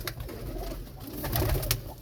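A breeding pigeon pair, hen number 5 with a mate, cooing close by in a loft with chicks. Soft, continuous low cooing runs through the whole stretch at moderate level, with no talk.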